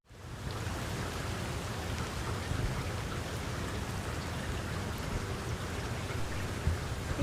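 Rain falls steadily, a soft even hiss of drops with no breaks and no voices, holding at a constant moderate level throughout.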